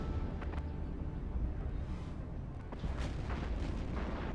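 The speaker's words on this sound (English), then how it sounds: "Look at those missiles being launched" Missile launches in the space game EVE Online during a mass test make dense, rumbling booms and bursts layered over a constant loud low roar.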